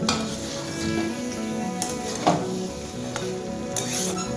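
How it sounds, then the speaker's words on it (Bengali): Potatoes and pointed gourd sizzle in a pan while being stirred, with steady frying hiss throughout and a few clear scrapes and clinks of a utensil against the metal. "সবটাকে একসাথে খুব ভালোভাবে মিশিয়ে নিচ্ছি"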